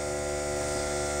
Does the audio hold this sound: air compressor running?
yes